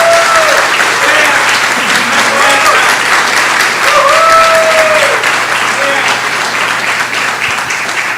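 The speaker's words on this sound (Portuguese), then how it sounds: "Não batam palmas, pelo amor de Deus, não façam isso." Applause after a poem reading at a tribute to a poet, steady, loud clapping from the audience throughout, with a voice speaking over it at moments.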